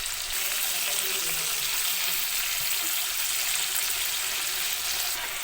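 Chicken sizzles steadily in a pan with curry leaves for a chicken biryani, a dense, even hiss that runs throughout without anyone speaking.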